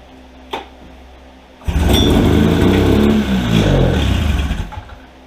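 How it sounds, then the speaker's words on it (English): A 1972 Arctic Cat Panther snowmobile engine, primed with a little gas, catches after a brief click and roars into loud, uneven running that revs and settles for several seconds, close up, then cuts off. "Fired right up, guys."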